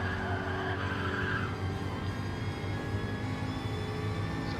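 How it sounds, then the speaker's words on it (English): A Group 3 Jaguar race car on racing tires at Kyoto Driving Park in a racing video game, its engine droning steadily with tire squeal, loud and continuous throughout. "we started this race once again using traction control, driving the Group 3 Jaguar"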